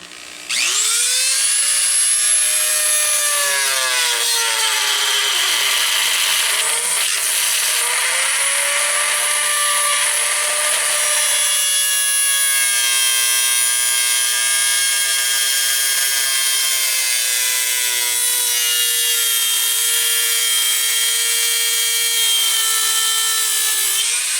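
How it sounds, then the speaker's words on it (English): A Dremel rotary tool grinds into a metal cookie sheet with a loud, continuous high-pitched whine and shifting tonal scream, sustained close up throughout with no talking. "from here, I'm just going to Dremel out this a little bit"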